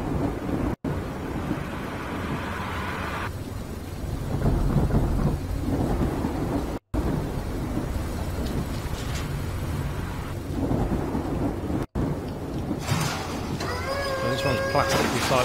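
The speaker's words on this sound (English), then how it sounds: "That's a bit of thunder." Thunder rumbling through a rainstorm in the Cityconomy garbage collection and recycling game, a long heavy low roll with steady rain hiss and brief dropouts, someone talking intermittently over it.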